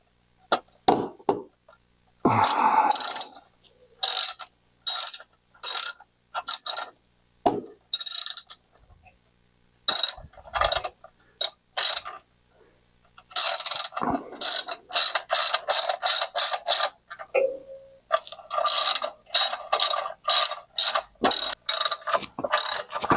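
Repeated bursts of ratchet clicking as clutch bolts are tightened down on a 1967 Chevrolet Corvette, short loud clusters of pawl clicks separated by brief pauses, close and clear with no talking.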